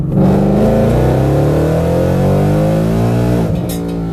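Drag car on new Mickey Thompson drag tires launching hard on a street, its engine loud and close as it revs and climbs steadily in pitch for several seconds before easing off near the end.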